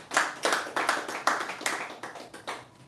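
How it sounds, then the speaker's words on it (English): A small comedy club audience at a stand-up show claps for a comedian, a faint, brief patter of scattered hand claps from a few people that swells slightly and then fades within three seconds. "Clap it up for him"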